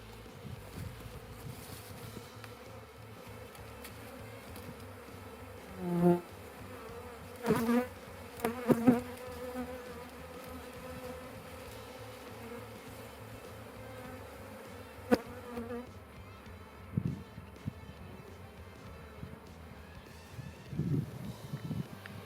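A swarm of honeybees drones in a steady, faint buzz with a few louder passes of bees flying near, heard alone.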